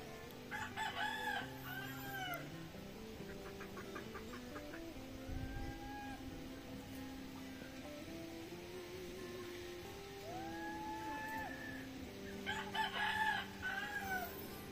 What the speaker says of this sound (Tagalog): Laki na ng manok ni Tita Rayo to.